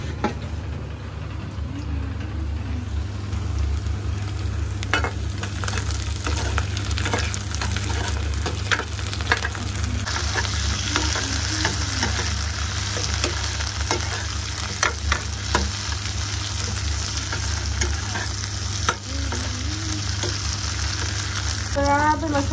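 Steady sizzling of onions frying in a pan, a continuous crackle with occasional stirring clinks, no talking.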